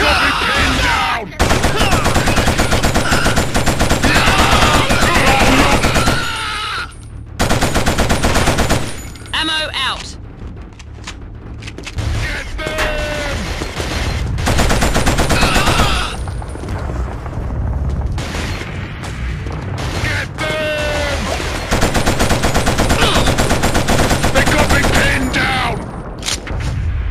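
Machine-gun suppressive fire rattles almost nonstop in the Killzone shooter on PS2, loud and close, with heavy booms and blasts mixed in and brief lulls, while voices call out over the battle.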